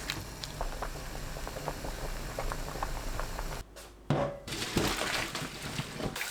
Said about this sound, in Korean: 끓는 물에 굵은 소금 1큰술, 호박잎 넣고 5분 데칩니다.